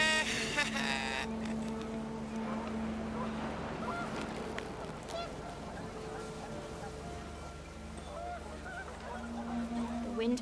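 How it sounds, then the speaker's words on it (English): Panicked geese honk repeatedly in What Remains of Edith Finch, a cluster of overlapping calls over a windy bed that stays steady throughout. "The wind picked up, and panicked geese appeared and quickly went."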